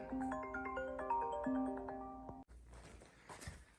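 A phone ringtone plays a short melodic chime pattern for an incoming call, clear and close, then cuts off abruptly into quiet room noise.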